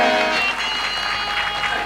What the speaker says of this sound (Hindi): तालियां बजाइए ना, अच्छा लगता है